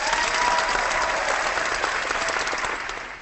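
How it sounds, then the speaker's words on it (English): A crowd applauds at the opening of a podcast, dense continuous clapping at a consistent level that begins to thin and fade toward the end, with no speech over it. "Got the nice applause there."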